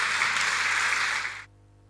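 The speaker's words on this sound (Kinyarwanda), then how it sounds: "komera Imana amashyi menshi cyane." A church congregation claps in a dense, even burst that stops abruptly after about a second and a half, leaving near silence.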